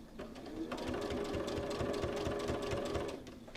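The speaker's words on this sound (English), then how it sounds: "start stitching. I'll do a few little backward stitches, and it's a straight stitch across" A sewing machine running a straight stitch across a T-shirt memory quilt, a close, steady rapid needle clatter that starts up, runs evenly and slows at the end.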